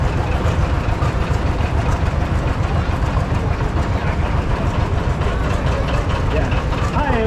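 A 1929 tractor engine runs during an outdoor parade, a loud continuous low rumble with steady chugging throughout, no break in the noise.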